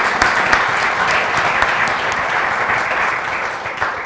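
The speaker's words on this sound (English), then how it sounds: "let's please thank our folks up on the stage with a round of applause" Audience at an economics panel discussion applauding the panelists on stage, a dense, steady round of clapping from a sizable crowd throughout.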